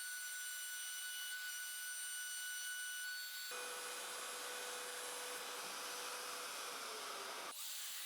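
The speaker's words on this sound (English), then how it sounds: "I've attached the circle cutting jig to the plunge router, and before anything else, I run a test with a piece of MDF to make sure the diameter is correct" A plunge router fitted with a circle-cutting jig test-cuts MDF about 5 mm deep. A steady high motor whine turns into a denser, rougher cutting roar midway, then drops back to the bare whine near the end.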